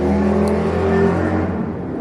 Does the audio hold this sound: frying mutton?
no